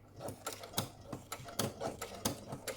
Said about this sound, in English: use a sewing machine and sew all around the